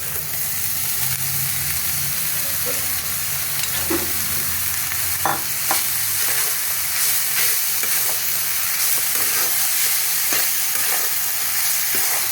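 Finely chopped dhenki fern greens sizzle steadily in a pan, their frying loud and close, broken now and then by spatula stirs and scrapes. No talking.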